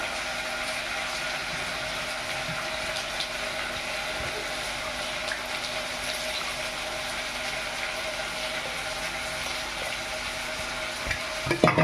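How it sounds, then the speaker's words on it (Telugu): Tamarind pulp being stirred into cooked lentils with turmeric for Andhra-style sambar, a steady soft scraping and liquid swishing close by, with a few louder knocks near the end. "పప్పులో కలుపుకుంటున్నాను."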